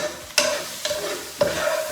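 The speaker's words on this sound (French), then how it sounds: "vous allez mélanger en fait jusqu'à temps que vous voyez que l'ail commence à fondre, à devenir un peu doré" Garlic frying in a pan is stirred, with three sharp scraping strokes over a steady, close sizzle.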